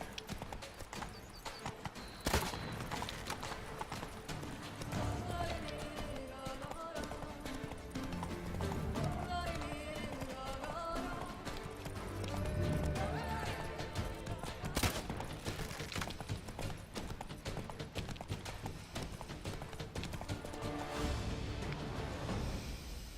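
Horse hooves clip-clop at a gallop in The Witcher 3: Wild Hunt, beating steadily beneath a continuous music score throughout, with a sharp loud crack partway through.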